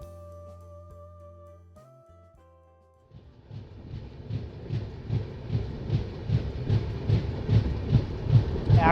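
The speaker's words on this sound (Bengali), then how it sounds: "ট্রেন ধীরে ধীরে রায়বরেলি স্টেশন এন্টার করছে।" A New Delhi–Malda Town Express train rolls slowly into Raebareli station in the early morning. After a few seconds of steady tones, a rhythmic wheel clatter starts, its regular beats growing gradually louder and closer.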